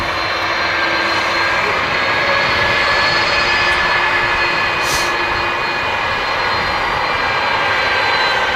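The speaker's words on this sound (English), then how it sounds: "let's have a look at this really nice A330" Engines of an Airbus A330-200 at Manchester Airport roar loudly and steadily, a constant broadband drone with faint whining tones held throughout.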